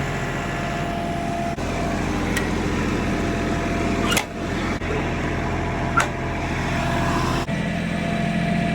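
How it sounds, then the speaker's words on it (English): Tractor engine running steadily nearby, a continuous low droning hum with a few brief clunks and clicks over it, no talk. "I love this tractor, man."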